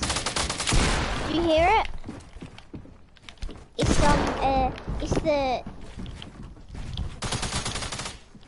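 Rapid bursts of SMG gunfire in a shooter video game, two or three loud clattering volleys separated by pauses, with a player talking over and between the shots.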